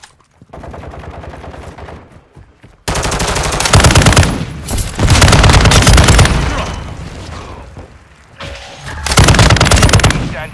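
Bursts of automatic gunfire from Call of Duty: Modern Warfare II crack loudly in rapid volleys, broken by short pauses, with quieter game audio between the bursts.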